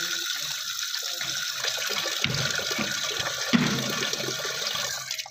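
Tap water pours steadily into a pot on a home kitchen stove for boiling eggs, with a continuous rushing splash at moderate distance and a brief knock partway through before the flow cuts off.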